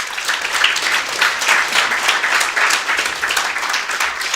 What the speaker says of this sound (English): So I think he deserves, as the first discussant, a round of applause and gratitude.